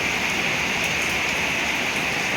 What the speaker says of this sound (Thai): ฝนตกวันนี้อากาศดีมากนะฮะ